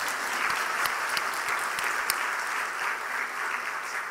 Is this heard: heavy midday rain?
no